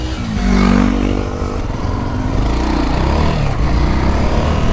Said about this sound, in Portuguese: A moto tá vindo ali, ó.